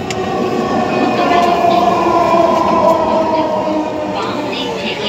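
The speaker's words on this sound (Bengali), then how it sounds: "সে প্রথমবারের মতো মেট্রো রেলে চড়ছে" A metro rail train rumbles steadily from inside a moving carriage, loud and continuous, with faint voices in the background.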